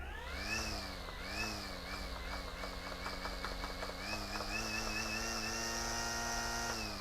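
A Makita 36V cordless string trimmer motor whines close up, its pitch rising and falling as the throttle is feathered on and off at slower speeds, then holding a steadier higher tone.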